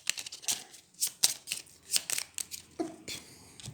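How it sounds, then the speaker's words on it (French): Playing cards from the Onirim board game are shuffled by hand at close range, making a quick run of crisp riffling snaps and rustles with short gaps between them. "je mélange ça, les limbes avec les cartes"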